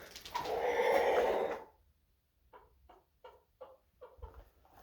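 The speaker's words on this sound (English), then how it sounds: "That was an odd noise the chicken just made." A backyard chicken lets out an odd run of short, clucking or snorting bursts, roughly six evenly spaced sounds close by. A louder, broad rustling noise comes before them.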